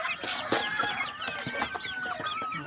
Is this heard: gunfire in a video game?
no